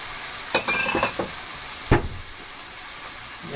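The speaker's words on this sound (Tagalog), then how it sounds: "halu-haluin lang po natin siya ulit" Misua noodles sautéed with fish sauce and liquid seasoning are stirred in a frying pan, with a steady sizzle underneath and a few brief scraping strokes of the utensil, close and without speech.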